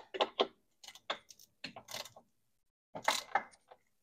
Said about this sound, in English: I'm going to use my ratchet.